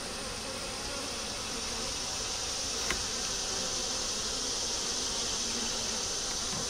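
Honey bees buzz at an open hive in a steady, dense drone, close and continuous, with no talk.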